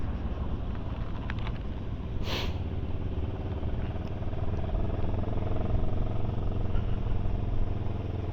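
Continuous engine drone of a Rieju Xplora 707 motorcycle being ridden on twisty roads in Spain, with heavy wind buffeting over the microphone and a brief clatter partway through, the engine swelling slightly toward the end.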